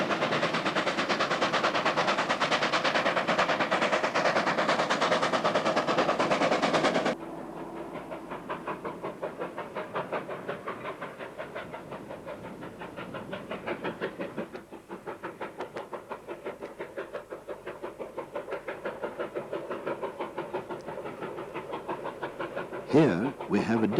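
A 19D steam locomotive works across an upper bridge and into a long curve on a mountain pass, its loud steady chuffing and rolling train noise continuous and near, easing somewhat partway through.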